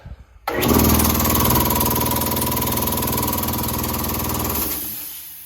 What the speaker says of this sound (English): we are going to be repairing this compressor. We had a gasket and the head blew out